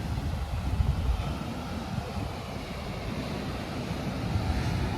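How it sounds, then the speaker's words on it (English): Ocean waves crash on a shore near a lava rock field, a continuous low roaring surf heavily mixed with gusty wind buffeting the microphone, with no voices. "that's the craziest wave I think I've ever seen"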